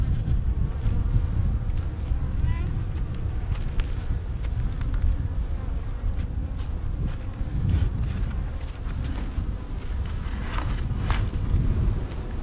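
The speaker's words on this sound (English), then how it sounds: "think there's a lot of bees in this box" Honey bees buzz inside a hive box, a dense, continuous hum of many insects close by, steady throughout with light wind rumble underneath.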